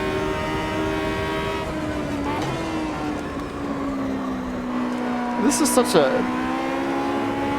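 American muscle race car engine in the sim racing game Automobilista 2, a steady droning note that shifts pitch as the car lifts through a corner, with a brief burst of higher sound near the end and someone talking over it.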